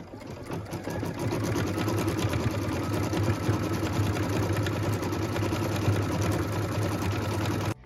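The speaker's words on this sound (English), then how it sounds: "What we're stitching now is the third step in the quilting" A sewing machine runs steadily, stitching quilting on a pieced-tree quilt project with a fast even mechanical whir and clatter, uninterrupted and fairly close.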